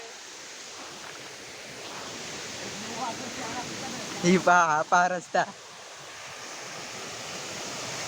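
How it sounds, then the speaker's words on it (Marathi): A steady roar of rushing water from a waterfall near a bridge, heard at a distance, fills the whole clip while people talk briefly in the middle. "तर आम्ही आता धबधब्याच्या जवळ आलेले आहे"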